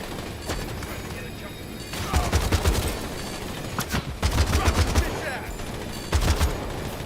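Video-game gunfire in a crime game rattles in repeated rapid bursts, loud and close, with a person talking between the volleys.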